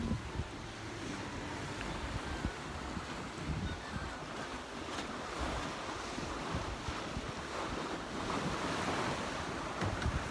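Wind and ocean waves aboard a sailing boat: a constant broadband rush of surf and gusting wind buffeting the microphone, fairly faint and steady, with no voices.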